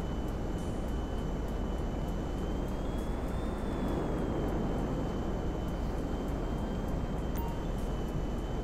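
Jet aircraft in GTA 5 Online flying underneath the map, a steady loud engine roar with a faint whine running continuously throughout, no talking.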